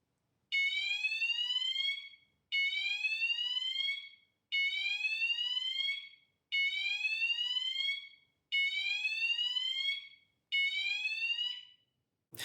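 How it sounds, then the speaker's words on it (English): A SenseGuard indoor siren sounds indoors: six loud, shrill rising electronic chirps, each about two seconds long, repeating at a steady rhythm with short silent gaps between them. "This is the sound of SenseGuard indoor siren"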